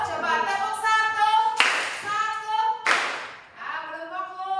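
Junior high classroom students clap in unison on cue, two sharp, loud group claps a little over a second apart, set against ongoing voices.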